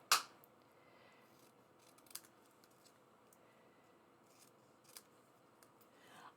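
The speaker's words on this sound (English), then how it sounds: "where's my scissors?" Scissors snip paper for a scrapbooking layout in a quiet room, with a few sharp, faint cuts spaced several seconds apart.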